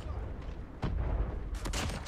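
A few sharp shotgun blasts in a Call of Duty 10v10 match, fairly faint, with one shot early and a closer cluster near the end over a low background rumble.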